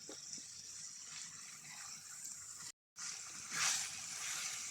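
Water is poured into chicken tikka masala gravy of fried, half-cooked chicken and spices, giving a steady broadband pouring wash that runs the whole time, broken by one short silent gap, and swells a little near the end.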